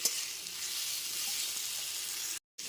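Ginger paste and cumin powder cook in a pan, giving a low, even hiss of sizzling oil that runs steadily with no stirring strokes, then drops out briefly near the end.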